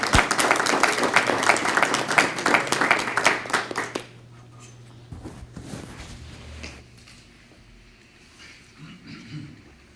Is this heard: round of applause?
yes